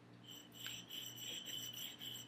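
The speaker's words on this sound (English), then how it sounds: "just smooth that out on one side, then the other, just up and down on that whetstone" A revolver hammer from a Ruger double-action conversion rubbed flat on a large whetstone, giving a close, steady rasping scrape with faint metallic ringing, repeated strokes and no talk.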